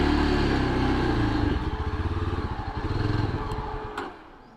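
A motorcycle engine idles close by with a low, rapid, pulsing throb that holds steady and then fades down near the end, with no talking.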